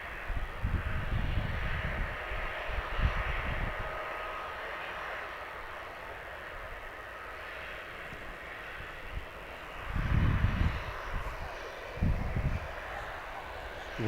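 A TUI Boeing 737 MAX 8 airliner arriving from Salzburg passes as a steady, fairly distant jet roar with a low rumble that swells at the start and again near the end.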